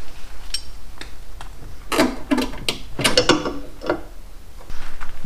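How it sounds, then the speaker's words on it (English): A spring is unhooked and released on a Troy-Bilt snow blower, giving a few metallic clicks and clanks followed by a cluster of sharp rattling snaps. The sounds are close against a low background hum, with no talk. "I'm going to release this spring."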